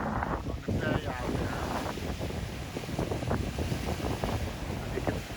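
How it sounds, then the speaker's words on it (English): Strong wind gusting across a bay off a launch spot, whipping up white caps, roars steadily into the microphone for the whole stretch, with broadband buffeting and faint voice-like fragments mixed in. "You see how the wind is making white caps on the bay out"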